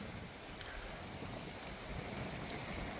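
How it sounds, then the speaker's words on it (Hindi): Light rain falling in a forest with a cool wind blowing, a steady broadband wash of rustling noise with low rumbling gusts, continuous and moderately near. "बारिश हल्की हल्की हो रही है लेकिन तेजी के साथ आने वाली है।"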